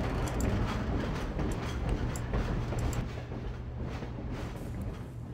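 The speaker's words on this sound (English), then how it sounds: "That's a really short train." A train rumbles past in the video game Half-Life 2, a steady loud low roar with faint rhythmic clatter that holds through the whole stretch without fading.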